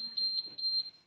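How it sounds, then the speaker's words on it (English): A diesel generator alarm beeps in a steady, high, piercing pulse, about five evenly spaced bleeps, close and loud, with faint voices underneath. "Alarm."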